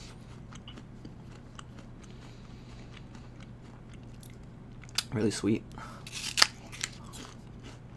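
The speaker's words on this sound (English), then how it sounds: "this is like super crunchy" Biting into a crisp NY Ruby Frost apple gives a loud crunch, followed by a few chewing crunches. A person speaks briefly over quiet room noise.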